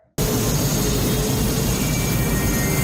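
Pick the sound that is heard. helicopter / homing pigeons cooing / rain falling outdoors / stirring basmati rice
helicopter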